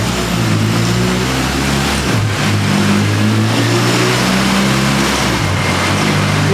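A Honda K24A engine roars loudly on a dyno pull, its pitch climbing as it revs, dipping briefly, then rising again as VTEC engages, with no voices.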